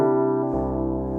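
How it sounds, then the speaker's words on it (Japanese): A 1973 Fender Rhodes electric piano sound from a Yamaha CP88/CP73 stage piano, one mellow sustained chord shifting to another, close and steady with no voices. "73年だな、73年のフェンダーローズ"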